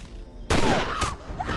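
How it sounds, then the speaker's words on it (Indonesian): A single loud gunshot rings out in the action film The Expendables, followed by a second sharp crack and a fading echo with a brief tail. "James menembak Barney hingga ia terjatuh."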